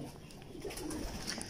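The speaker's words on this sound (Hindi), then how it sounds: "ये मिस्से कबूतर है मिस्त्री दीन साहब वाले" Missay pigeons coo softly in a loft, brief low murmuring coos against a steady background hum.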